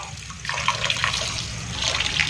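Polao rice, about one and a half kilograms, being washed in water, with a steady swishing and splashing running throughout at moderate level, no voices.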